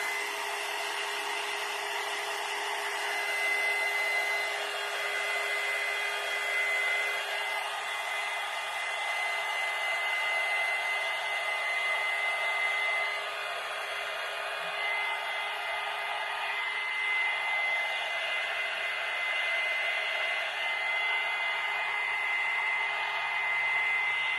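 A hair dryer blows steadily on a faux box-of-chocolates craft, a continuous close whooshing roar with a fixed whine that holds unchanged for the whole stretch, no talking.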